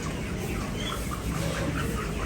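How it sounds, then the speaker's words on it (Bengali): Chickens cluck nearby at a market stall, a continuous soft chatter of several birds under a steady background din. "আমাদের ওদিকে পোয়াল মানে মুরগিগুলো ভালো পাইছি"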